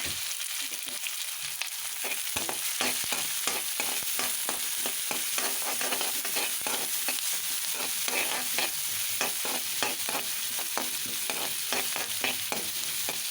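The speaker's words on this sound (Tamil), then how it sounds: "இப்போ வெங்காயம் போடலாம்." Onions frying in butter in a heavy pan, a steady crackling sizzle with frequent stirring scrapes and clicks throughout, close and fairly loud, with no talking.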